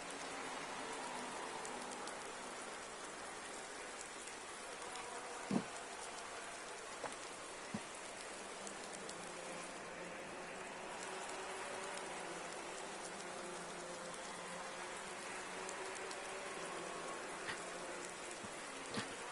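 Steady rain pours down during a wet FIA GT3 race in the racing game Project CARS 2, a dense continuous hiss of drops on surfaces with a few faint knocks, no talking.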